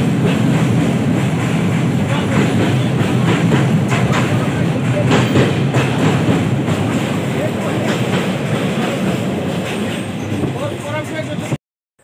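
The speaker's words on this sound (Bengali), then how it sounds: "ডাইরেক্ট ট্রেনে উঠে পড়েছি আর এখন যাচ্ছি" Passenger train running on rails, recorded from onboard: a loud, steady rumble with rhythmic wheel clatter that holds for about eleven seconds and then cuts out abruptly.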